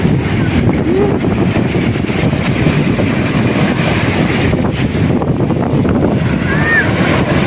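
Big ocean waves breaking on a beach in La Union, a loud continuous roar of surf with wind buffeting the microphone throughout.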